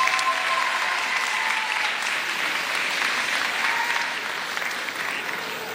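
A Japan Expo audience applauds steadily for several seconds, a broad, even roar of many hands clapping at once that holds its level throughout and tapers slightly toward the end.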